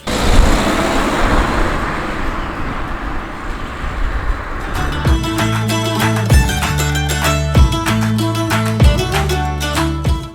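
A car pulls away and accelerates along a straight road leaving a 30 km/h zone, engine and road noise building loud and close, then giving way to a regular rhythmic clatter of repeated impacts.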